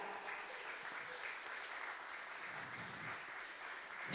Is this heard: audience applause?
yes